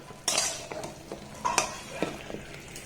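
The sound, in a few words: stirring sugar syrup with gulab jamun in a pan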